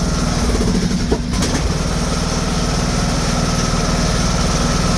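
The small engine of outdoor power equipment runs steadily nearby, a loud, buzzing, rattling drone that holds even throughout with a brief dip near the start and no talk.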